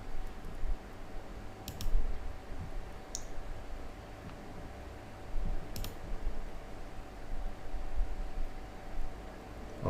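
Sharp computer mouse clicks, a few isolated ones spread over ten seconds, close and crisp against a quiet room hiss with a faint steady hum.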